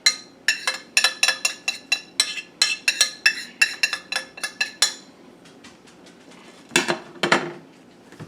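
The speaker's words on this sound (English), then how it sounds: "I'm just going to spoon it all into there together." A metal spoon clinking repeatedly against a pot while spices and aromatics are spooned in for smoked turkey, a rapid run of sharp close taps for several seconds, a pause, then a few more clanks.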